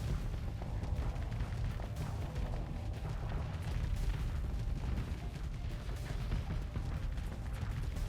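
Hellbore cannons in the space combat game Starsector pound ship armor plating in a continuous barrage of heavy, muffled booms and thuds layered over a dense rumbling battle din.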